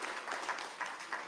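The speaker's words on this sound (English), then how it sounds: "Let's give a round of applause." An audience at a town hall meeting claps for a short stretch, a moderate, fairly distant patter of many hands with a few louder peaks.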